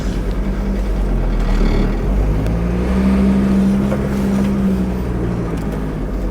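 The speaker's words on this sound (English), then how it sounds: "Okay, we'll select first and off we go." A 1992 VW T4 Clubman camper van pulls away in first gear, its engine droning steadily and loud up close, with a rising hum as it accelerates and wind rush around the cabin.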